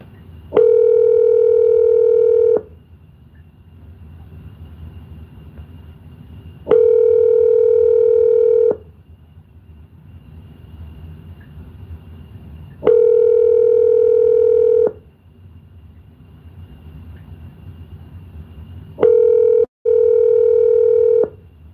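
Telephone call tones ring out while a call is being placed: four loud, steady tone bursts about two seconds each, evenly spaced roughly six seconds apart, with quiet hiss between them and no talking.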